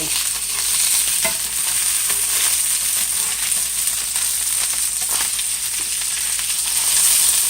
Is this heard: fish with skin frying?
yes